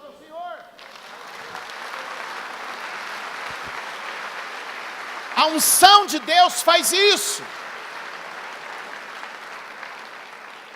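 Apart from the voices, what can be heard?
church congregation applause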